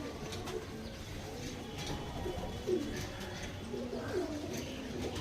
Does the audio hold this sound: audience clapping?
no